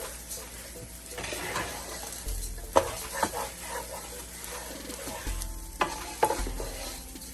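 Parboiled rice toasting in a pan for a salmon and rice dish, with a steady soft sizzle, a close spoon stirring and scraping, and a few sharp clinks against the pan.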